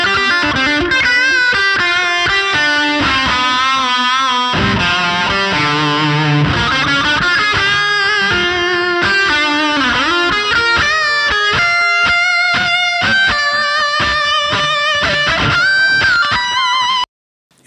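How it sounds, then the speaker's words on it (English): An electric guitar plays a lead solo through a heavier overdrive pedal with delay and a small reverb, recorded on a Line 6 Helix. Sustained, bending melodic notes ring out loud and continuous over backing instruments for about seventeen seconds. "I put on the heavier overdrive pedal with some delay and with the smaller reverb, and that lead tone sounded like this for this solo."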